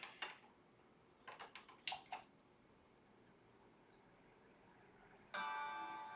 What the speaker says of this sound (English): Mac is still chiming, that's good.